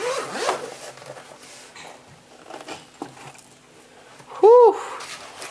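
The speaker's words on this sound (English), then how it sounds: "Alright, let's unzip it." Zipper being pulled open on the bag of a Seestar S30 telescope, one quick loud zip near the end after soft rubbing and handling of the fabric, close up.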